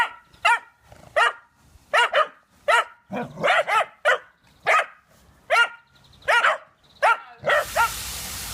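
A dog, Amber, barks repeatedly outdoors during a walk, about a dozen loud close barks in a fairly steady rhythm with short gaps, ending in a burst of wind or rustling noise.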